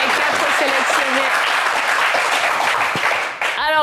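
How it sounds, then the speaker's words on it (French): Enthusiastic studio audience applause for the selected players on a TV game show, loud and continuous with a few voices calling out over the clapping, ending with a brief musical sting. "On peut applaudir les 4 sélectionnés."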